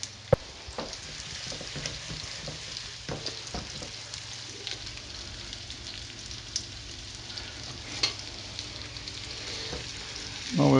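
Tofu burgers fry in a pan over high heat, giving an even, close sizzle with occasional small clicks and pops.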